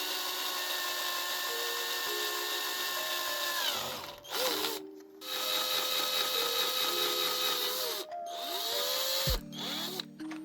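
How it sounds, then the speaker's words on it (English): A power drill bores holes through a metal plate fitted over the button of an electric log splitter, a loud steady whine with pitch dips and short pauses as the bit bites and restarts, with no talk. "I'm going to drill a hole on both sides here and pin this in place"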